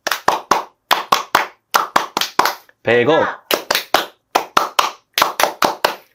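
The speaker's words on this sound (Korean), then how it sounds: "오늘은 아주 차분하게 박수를 쳐보도록 하죠" Calm hand clapping by one person, done in short rhythmic bursts of sharp, close, loud claps, sometimes two and sometimes four, with brief pauses between them; a short spoken phrase breaks in partway through.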